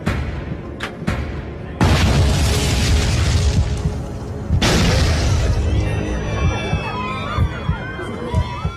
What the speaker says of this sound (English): Two explosions rock the plane.